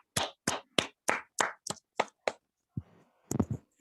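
After a Buddha Purnima week meditation session, participants give about eight crisp, evenly spaced hand claps close by, then a pause and a final short cluster of claps.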